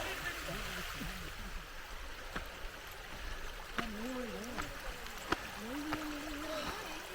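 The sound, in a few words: stream water flowing on a trek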